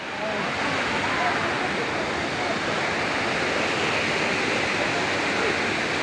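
A waterfall at Tanay, Rizal roars in a steady, dense wash of rushing water, close and loud, unbroken for the whole stretch with no clear voices.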